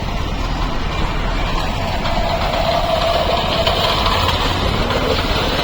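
A 7hp power weeder rotavator engine runs steadily nearby, a loud, constant low rumbling drone with vibration throughout.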